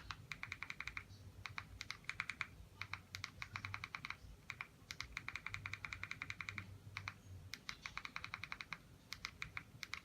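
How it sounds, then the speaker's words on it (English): Rapid keyboard typing while entering a search in the Kodi media app, bursts of crisp close key clicks in irregular clusters with brief pauses between words, alone without talk. "Just type it in."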